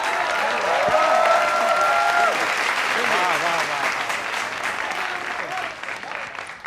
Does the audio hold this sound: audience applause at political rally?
yes